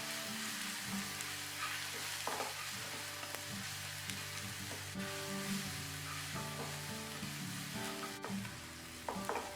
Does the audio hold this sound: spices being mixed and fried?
yes